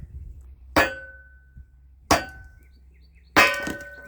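Three sharp, ringing knocks of wood being tapped down onto the steel wedge of a Kindling Cracker King kindling splitter, spaced over a few seconds with a brief metallic ring after each, close and fairly loud.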